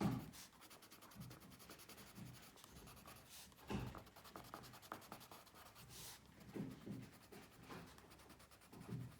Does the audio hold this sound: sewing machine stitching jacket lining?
no